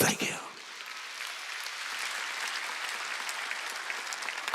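Church congregation applauding during a sermon, a sharp burst of clapping at first that settles into sustained, even applause from a large group, with a voice heard faintly over it.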